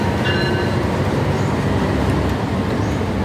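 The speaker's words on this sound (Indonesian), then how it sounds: "Kereta Gumarang menuju ke Surabaya, ya, teman-teman." The Gumarang train bound for Surabaya rumbles steadily through Pasar Senen station in Jakarta, a loud, continuous roar of wheels and carriages close by.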